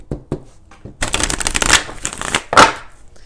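A deck of tarot cards is riffled and shuffled close up, a few soft taps first, then a loud, crisp flurry of flicking cards and a final burst.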